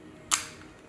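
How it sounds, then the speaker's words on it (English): A single sharp metallic click as the slide release is pushed into a Colt 1911 22 ACE military training pistol in .22 Long Rifle, brief and close, with quiet room tone afterward. "Put the slide release in."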